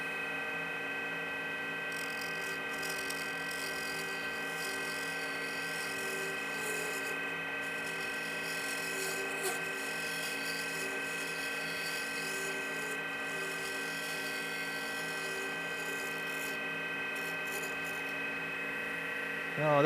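Easy Wood mid-size #1 hollower cutting a spinning duck call blank on a wood lathe, a steady close whirring hum with a continuous scraping rasp that runs unbroken throughout.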